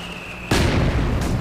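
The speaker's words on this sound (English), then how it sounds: "I'm firing mortars back and using my special ability, mortar barrage." A mortar barrage in the video game Company of Heroes 2 bursts in two loud, close booms, the first heavy blast followed a moment later by a second impact over the battle's background din.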